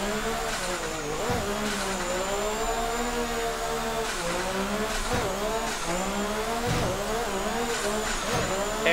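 A drift car works the inner bank at Irwindale, its engine screaming steadily at high revs with repeated dips and surges as the throttle is feathered, tire noise riding underneath, close and continuous throughout.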